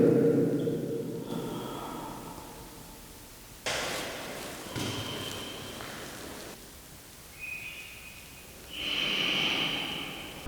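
Heavy breathing coming through a telephone inside an abandoned children's sanatorium, slow snorting breaths and sighs in uneven bursts against a quiet hiss, with no talking.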